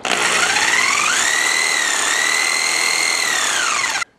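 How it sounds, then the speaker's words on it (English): A jigsaw fitted with a porting tool mandrel grinds inside a Norton race engine head, a loud, steady high whine that bends slightly in pitch midway and then stops abruptly, with no voices. "It's a simple jigsaw with a porting tool mandrel silver soldered onto the jigsaw blade."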